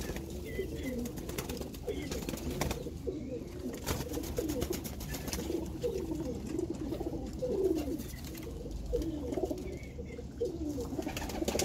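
Heeralal breed pigeons coo steadily in low, throbbing phrases that repeat throughout, close by, with faint background noise and no clear speech.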